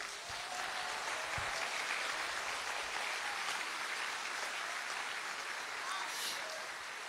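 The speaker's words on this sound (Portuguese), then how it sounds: "Vocês podem aplaudir a Jesus?" Congregation applauding in a church service, a steady wash of distant clapping and crowd noise throughout, faint and evenly sustained.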